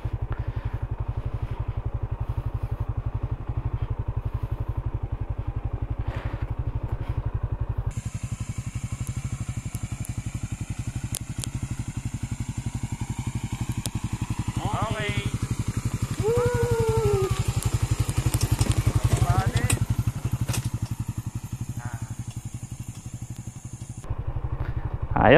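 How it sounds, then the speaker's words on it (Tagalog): A Suzuki Raider motorcycle on an off-road mountain trail ride, with a steady low engine drone throughout, close and fairly loud, its pitch rising and falling as the rider works the throttle over rough ground. "Tsaka hindi naman off-road tong motor ko."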